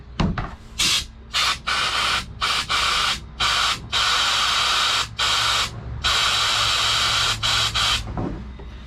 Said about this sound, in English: Let's get some acetone. Let's get some compressed air.